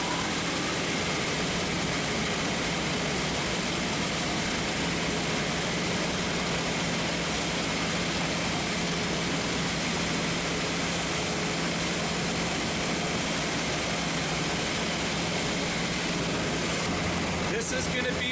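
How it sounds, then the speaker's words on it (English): A dust collector and a wide belt sander running in a woodworking shop, making a loud, steady broadband roar that holds at the same level throughout. "So I'm going to turn on the dust collector, and then I'll fire up the wide belt sander"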